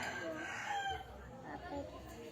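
A rooster crows once at moderate distance, a drawn-out wavering call over steady background noise.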